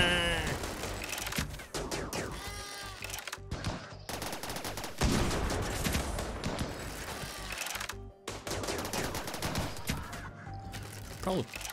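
Gunfire in the RimWorld video game, a dense, chaotic stream of rapid shots and bursts with brief gaps, mixed with animal bleats and game effects.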